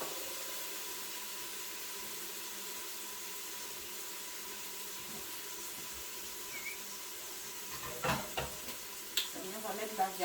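Onions and garlic sizzle quietly in a pan as a base for beef with carrots, a faint steady hiss with stirring clatters and scrapes growing louder toward the end.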